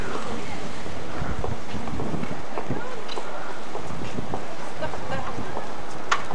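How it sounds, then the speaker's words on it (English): Wind gusting across the open upper deck of a cruise ship at sea, a steady broadband buffeting rumble with occasional harder gusts, loud and close on the microphone. "Bit windy up here though."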